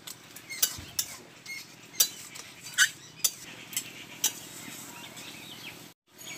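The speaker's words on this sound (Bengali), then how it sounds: "এইভাবে সবজিটাকে ঘেঁটে নিতে হবে।" Khesari greens being stirred in a pan with mustard oil and green chillies, giving repeated sharp clinks of a utensil against the pan at an uneven rhythm over a low background hum, fairly close and moderately loud, ending in a brief silence.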